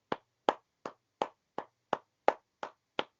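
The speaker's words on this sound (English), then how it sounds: "I'm just going to start by giving you and all of your colleagues at the NHS a round of applause" A single pair of hands claps a slow, steady round of applause for NHS workers: nine crisp, evenly spaced claps with nothing between them and no voices.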